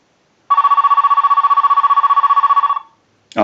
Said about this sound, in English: We're going to use the analyzer and send a ring cycle